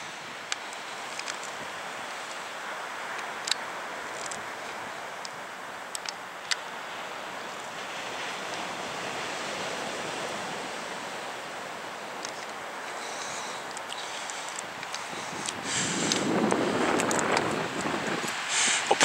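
Surf and white water wash steadily at a fishing spot, a broad continuous hiss with wind buffeting the microphone, swelling into a louder breaking wave near the end.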